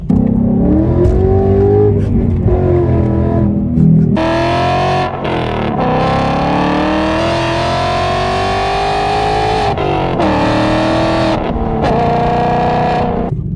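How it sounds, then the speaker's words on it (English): A loud V8 exhaust from a 2020 Mustang GT with long tube headers roars continuously, rising and falling in pitch as the engine revs and accelerates, with a deep, raspy, distorted tone throughout. "the car sounds so good right now"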